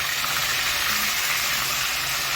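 Chicken pieces searing in a pot for Saudi-style chicken kabsa, a loud, dense, continuous sizzle and crackle heard up close with no talking.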